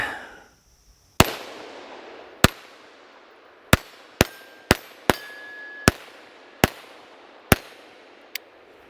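Ten sharp, loud pistol shots from a Volquartsen Scorpion .22 WMR fired at an uneven pace, each a crisp crack with a short ringing tail, a couple with a metallic ping.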